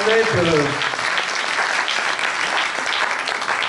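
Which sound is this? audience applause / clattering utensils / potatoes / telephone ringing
audience applause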